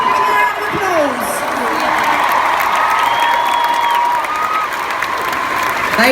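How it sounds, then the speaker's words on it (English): A live audience applauds and cheers continuously at close range, a dense wash of clapping with whoops and a few raised voices on top. "Give me a round of applause."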